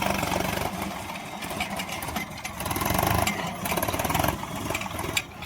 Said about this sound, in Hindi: देखो पंखे द्वारा फैलाया जा रहा है